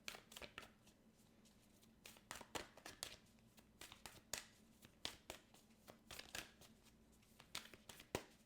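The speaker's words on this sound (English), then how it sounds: "So we're like shuffling live on camera." An oracle card deck from the Moonology series is shuffled by hand in a quiet room, giving repeated crisp riffling bursts with short pauses between them, close and fairly soft.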